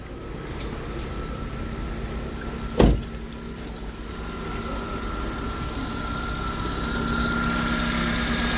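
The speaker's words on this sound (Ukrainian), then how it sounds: "Мотор працює рівно." A Toyota Avensis T25 with the 1.8-litre 1ZZ-FE engine idles steadily, a low continuous hum with a faint whine, interrupted by one brief sharp knock near the start.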